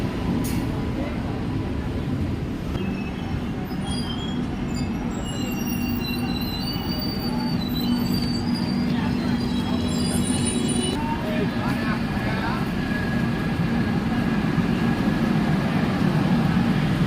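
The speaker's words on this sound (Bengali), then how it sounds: "এই তো বলতে না বলতেই সম্বলপুর স্টেশনে আমাদের ট্রেনটি চলে এসেছে, সমলেশ্বরী এক্সপ্রেস।" Samaleswari Express pulling into Sambalpur station, a loud continuous rumble of the train with metal wheel squeal rising and falling throughout, with platform voices mixed in.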